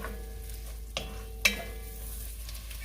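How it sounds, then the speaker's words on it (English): Shallots and rosemary sautéing in butter and extra virgin olive oil, a quiet steady sizzle with two sharp clinks of a utensil against the pan, close and otherwise calm. "add a pinch of salt while you're sauteing it"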